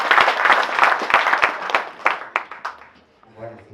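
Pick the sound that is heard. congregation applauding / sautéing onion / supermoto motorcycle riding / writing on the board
congregation applauding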